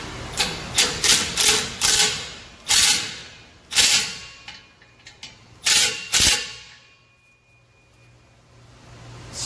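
Ratchet clicking in short bursts as exhaust tip clamps are tightened on a Ram 5.7 Hemi with straight pipes, a run of rapid metallic clicks followed by several separate bursts, close and fairly loud, then quiet.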